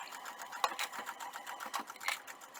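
A domestic sewing machine stitches slowly across a hanging towel with a pieced band, its soft, quiet, uneven needle clatter coming in short bursts with a few light clicks and no talking.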